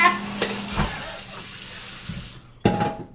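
Water runs from a tap into a container with a close, irregular splash that fades toward the end before another short gush and clatter.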